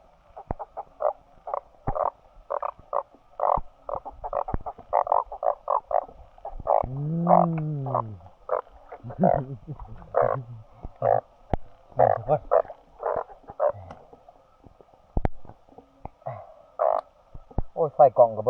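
Frogs croak loudly and close by in heavy rain at night, a dense run of rapid pulsing calls with a few longer croaks among them and no talk over them.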